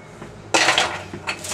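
Food set down onto a foil-lined baking pan gives a sudden crinkly rustle and clatter of foil and metal, then a second shorter burst, close and fairly loud, with no talking.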